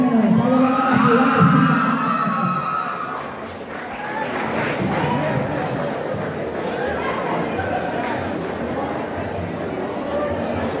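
A crowd at the Tepecoyo Band Fest 2022 awards ceremony shouts and cheers in a steady, dense roar that fills the whole stretch, with a voice heard over it near the start.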